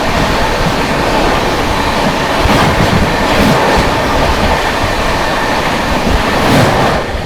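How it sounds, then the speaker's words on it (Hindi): Bhagalpur–Anand Vihar Garib Rath Express rolling past at slow speed, running eleven hours late, with a steady loud rumble of wheels and rhythmic clickety-clack of coaches over rail joints, continuous and close throughout. "ग्यारह घंटे डिले भागलपुर आनंद विहार गरीब रथ एक्सप्रेस।"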